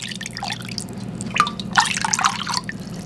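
Bone broth scooped from a pot, liquid dripping and splashing back in small wet drips and trickles, close and fairly quiet, no talking.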